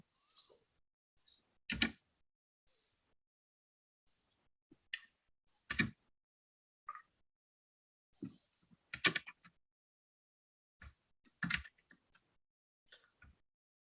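Program code being typed on a computer keyboard, with sparse key clicks and short clusters of taps separated by pauses, close and quiet in an otherwise silent room.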